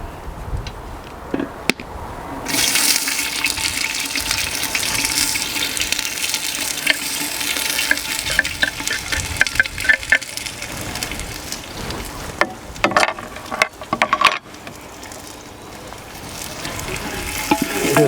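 Onions hit a hot clay pot and burst into a loud, crackling sizzle that keeps going steadily with rain-like hissing, and no voices are heard.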